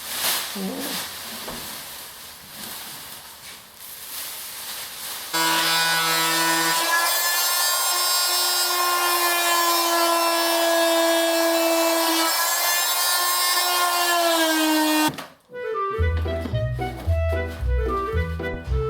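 A power saw cuts a straight line through a farmhouse kitchen ceiling during a shiplap renovation. Scraping comes first, then a steady, loud whine holds for about ten seconds before music takes over.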